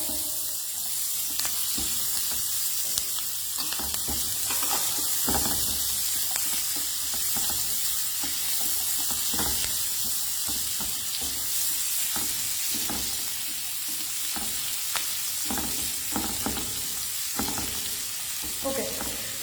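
Two large chopped onions frying in hot oil in a pan, a steady dense sizzle with frequent crackles and pops running throughout, close and fairly loud, no talking.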